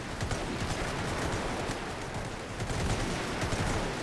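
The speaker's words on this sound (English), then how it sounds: "New sound for the guns as well." Massed rifle and machine-gun fire from the WWI strategy game The Great War 6.0 rolls on as a dense, continuous crackle of overlapping shots, steady and fairly distant, with no voices.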